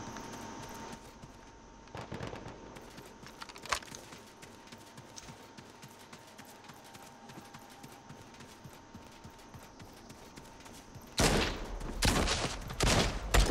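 Assault rifle gunfire in the game Realm Royale: scattered sharp shots early on, then a loud rapid burst near the end over a quiet background.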